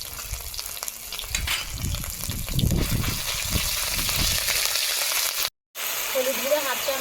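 Ginger paste spatters and sizzles in hot oil in a home kitchen, a steady, loud crackling fry that runs almost without a break before a brief dropout near the end.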